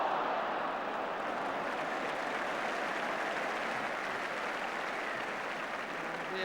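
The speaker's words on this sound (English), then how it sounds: "Villa gets applause" Steady crowd applause fills a football stadium during a Spurs versus Southampton match, a broad continuous wash of clapping and crowd noise that holds at even loudness throughout.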